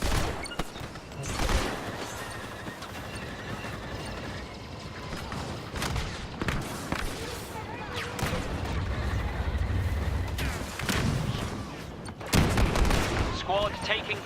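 Grenade explosions and rapid gunfire from a Star Wars Battlefront 2 Galactic Assault multiplayer match, heard as dense, overlapping bursts and booms that continue throughout, with a louder blast cluster near the end and a voice talking over the battle.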